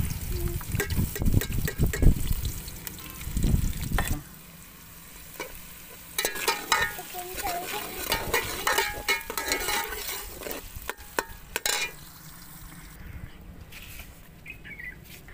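Onions sizzle and fry in a pot, heavy at first, then softer. Stirring scrapes and clinks of utensils come and go throughout.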